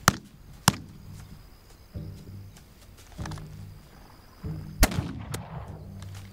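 Gunfire from the This Land is My Land video game: several sharp, isolated shots spaced across the stretch, one especially loud crack near the end, over low rumbling game ambience and scattered distant noises.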